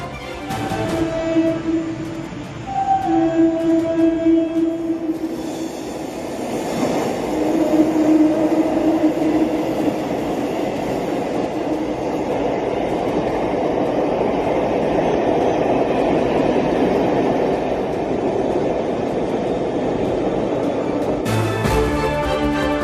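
Chennai Velachery–Parangimalai elevated train running on its track, a loud, sustained rumble with clacking wheels that builds after a few seconds and holds steady, with a sharp noise near the end.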